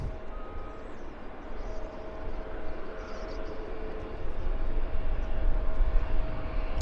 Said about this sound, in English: We've got a MAX taxiing out.